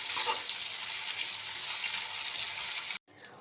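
Chopped tomato fries with spice paste in hot oil in a pan while an egg masala is being made. A close, steady sizzle crackles throughout, breaks off abruptly near the end, then returns briefly.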